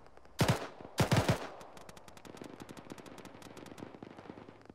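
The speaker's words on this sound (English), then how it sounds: "we've had ZSU gunfire from the northwest behind the trees" Bursts of ZSU anti-aircraft gunfire in the Arma combat game, two loud rapid volleys early on, then a steady rattle of fainter, more distant automatic shots continuing behind.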